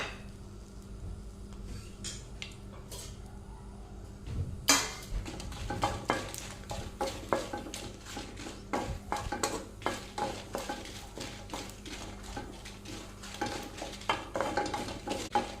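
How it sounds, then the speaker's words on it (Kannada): Ten dry red chillies fry in a little hot oil in a pan, with a soft sizzle under busy, close metallic clinks and scrapes of a spoon stirring against the pan. "ಇಲ್ಲಿ ಹತ್ತು ಒಣಮೆಣಸು ತೊಗೊಂಡಿದ್ದೇನೆ ಅದನ್ನು ಸ್ವಲ್ಪ ಫ್ರೈ ಮಾಡ್ತೇನೆ"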